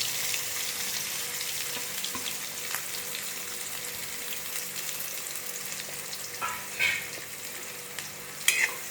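Chopped onion sizzling steadily in hot oil, a constant crackling hiss with a few sharper pops and scrapes near the end, no voices.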